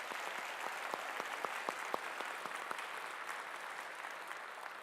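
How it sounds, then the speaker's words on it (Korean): A church congregation at a Sunday worship service applauds, a thin, scattered clapping with a few distinct sharper claps early on, fairly quiet and fading out over several seconds. "잘 갔다 오라고 우리 박수 한번 하시죠."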